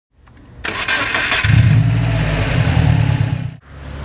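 A car engine cranks on the starter, catches and settles into a loud, steady idle up close, then the sound dips sharply near the end.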